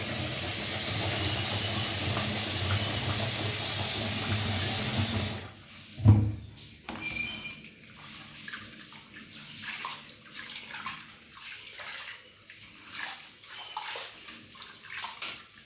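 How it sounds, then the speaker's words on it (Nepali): Soaked rice for sel roti rinsed in water: a steady rush of running water for several seconds, then a splash and irregular sloshing, swishing and dripping as the grains are washed, with no talk. "3-4 पानी राम्ररी पखालिदिनु होला"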